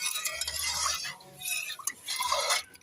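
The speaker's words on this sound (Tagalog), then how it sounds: "Halo muna natin mga Momshi hanggang sa mag-melt" Pumpkin jelly mixture being stirred in a pot until it melts, a close scraping and swishing of utensil against cookware in uneven strokes with light clinks.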